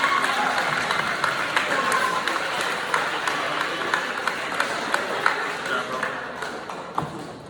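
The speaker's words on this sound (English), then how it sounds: "Can y'all clap it up for Cortez Parks?" An audience at a Buckeye Middle School program ceremony claps steadily for a student, Cortez Parks, with scattered sharper claps over a dense, continuous patter and some crowd murmur.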